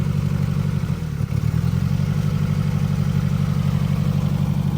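A Nissan D21 engine runs rough with its MAP sensor unplugged, a steady, close idle with an uneven, stumbling pulse and a short hiccup about a second in.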